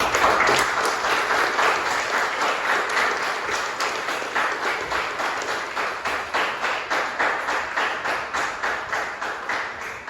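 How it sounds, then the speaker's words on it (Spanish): A congregation gives a sustained round of applause lasting the full stretch, many hands clapping steadily with a rhythmic pulse that fades slightly toward the end, with no talking. "Una ronda de aplausos"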